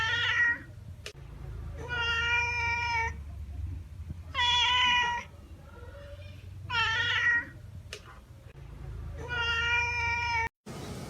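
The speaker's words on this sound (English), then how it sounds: "Cat." A domestic cat meows repeatedly, five drawn-out, loud, close cries spaced evenly, with a low steady hum underneath.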